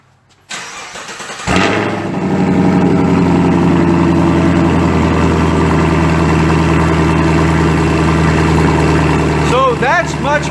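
A Chevrolet Camaro fitted with a new MBRP exhaust starts up loudly and settles into a deep, steady, throaty idle that fills the rest of the clip close to the listener.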